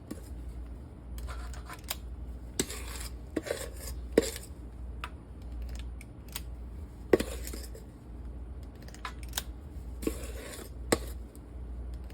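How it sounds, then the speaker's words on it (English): Cake batter for small-batch tres leches cupcakes scooped into a cupcake pan: intermittent soft clinks, taps and scrapes of a utensil against bowl and pan, quiet and close, with short pauses between scoops. "Go ahead and scoop in your dough, your batter."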